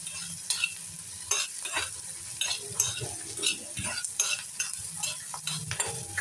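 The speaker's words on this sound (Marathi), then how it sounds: "कांदा चांगला तळून झालाय." Onion frying in a pan for a red amaranth curry sizzles softly and steadily, broken by repeated close spatula scrapes and taps against the pan at an irregular pace.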